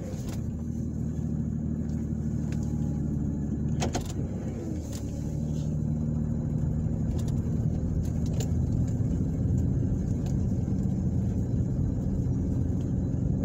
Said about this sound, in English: And now I'm gonna drive down Poplar Avenue.